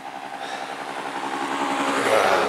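A motorcycle engine drones steadily and grows louder as it approaches, revving and passing close by with no voices over it.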